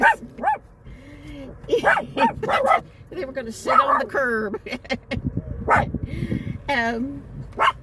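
Dogs bark and yip in short bursts close by, mixed in with a person talking over them throughout.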